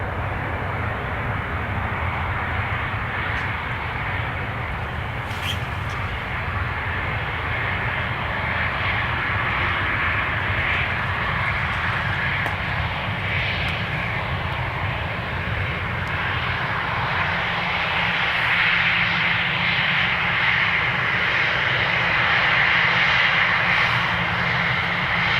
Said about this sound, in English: So our A330 from Chicago is joining the queue on